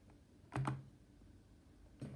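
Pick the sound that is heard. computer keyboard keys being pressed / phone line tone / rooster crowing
computer keyboard keys being pressed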